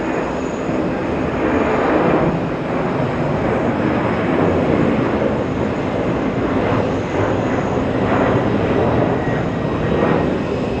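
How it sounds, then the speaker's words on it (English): An ABX Air cargo jet takes off from runway 4 Left at New York's JFK airport, its engines giving a loud, sustained roar that swells and rumbles steadily and stays close throughout, with no talking. "as we see ABX Air lifting off from 4 left"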